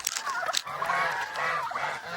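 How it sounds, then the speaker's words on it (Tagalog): Geese honk repeatedly in short, nasal bursts, several birds calling over each other at close range. "Yung makukulit na gansa"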